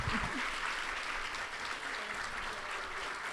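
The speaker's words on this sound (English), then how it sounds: "Please, another big round of applause for Dr. Angela Davis." Big round of audience applause for Dr. Angela Davis after a conversation event, a full, even roar of many hands clapping continuously from start to finish.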